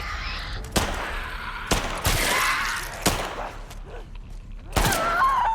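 Shotgun blasts in The Last of Us Part II, several loud booming shots spaced unevenly over a few seconds, with game ambience and a brief voice between them.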